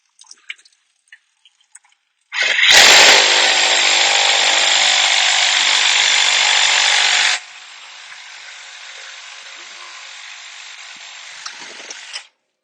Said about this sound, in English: I like to use a Sawzall. On older plumbing